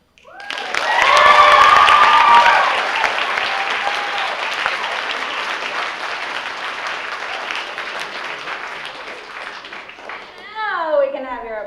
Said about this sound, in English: Now we can have your applause.